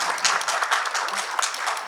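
Audience at a policy debate forum claps to welcome a lawmaker, producing a brief, dense burst of applause that is steady and fairly loud throughout, with no voices over it.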